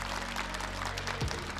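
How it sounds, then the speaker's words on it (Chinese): Audience applause at a political speech honoring President Xi, a steady wash of clapping from a large crowd filling the short clip, with a low tonal rumble underneath. "请继续给我们的习主席掌声鼓励"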